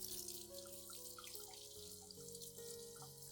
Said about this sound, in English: Next, rinse the entire plant thoroughly with clean water.